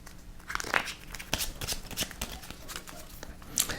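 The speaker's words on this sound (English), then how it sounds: "All right, shuffled, we cut the deck, and we deal 3 piles." A deck of cards for the Paleo board game is shuffled by hand at close range, giving crisp riffling bursts and taps in an uneven rhythm.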